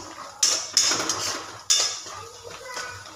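A metal spoon stirs turmeric into poha in a pan, producing three sharp clinks and scrapes against the pan with softer shuffling between them, close and alone.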